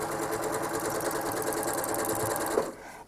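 A home sewing machine stitches through a quilt in a steady, fast mechanical whir with a rapid needle pulse, running continuously before stopping at the end.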